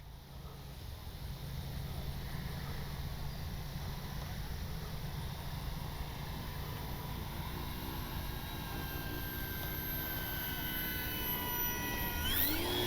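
A Durafly 1100mm T-28 RC model airplane with gear up flies a low pass overhead in the evening, its electric motor a steady whining drone that swells near the end.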